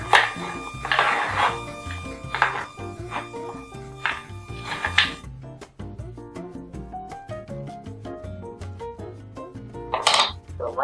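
A microwave dish of masala peanuts gets turned over, with light clinks and rattles of the nuts against the dish, scattered and uneven, ending in a sharper clatter.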